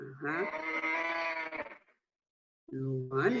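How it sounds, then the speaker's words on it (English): A recorded cow moos twice, a long, loud, tonal low call followed by a pause and a second call, with a voice speaking during the second call. "Moo is saying, right?"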